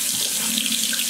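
Tap water runs steadily into a tub for a capuchin monkey's warm bath, a close, continuous splashing hiss with no talk over it.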